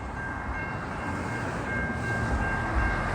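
A fast CSX or Norfolk Southern freight train rolls past on nearby tracks, a loud steady rumble and rail roar building slightly toward the end, with a faint high tonal whine above.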